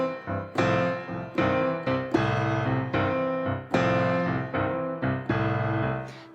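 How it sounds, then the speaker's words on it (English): Piano plays a slow blues shuffle pattern, with rich sustained chords struck in an unhurried, swinging rhythm, each phrase decaying before the next attack, played alone and close. "we're gonna start off with a slower blues shuffle pattern, which sounds like this"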